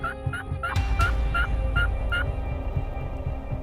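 A wild Rio Grande turkey gobbles in a fast rattling burst of repeated notes, moderately near, over a low rumbling background, in South Texas.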